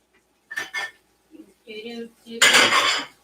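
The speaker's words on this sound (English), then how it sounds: "let me just cut it up a little bit. I'm trying to be very careful because I don't want to scratch the pan" A utensil cutting up food inside a pan, taken carefully so the pan is not scratched: a few separate metal scrapes and clinks, close by, ending in a louder, longer scraping pass.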